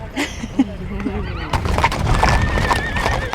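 Horses whinny loudly several times, then a brisk clatter of hooves and general movement builds beneath the calls, close and busy.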